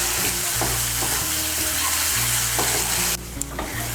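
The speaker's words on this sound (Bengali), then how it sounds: "মটরশুঁটিটাকে মিশিয়ে নেব। মিশিয়ে নিয়ে মশলাটাকে আর একটু কষিয়ে নেব।" Masala and green peas for a Bengali soybean curry are stir-fried in a pan, giving a loud, close sizzle with repeated scraping strokes of a spatula, the frying cutting out briefly near the end.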